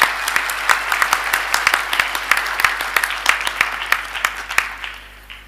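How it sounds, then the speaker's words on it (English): Applause from a seated crowd at a spring university graduation ceremony, honouring Dr. Pandor, with individual sharp claps popping above a lighter patter before the clapping gradually tapers off at the end. "another round of applause for Dr. Pandor"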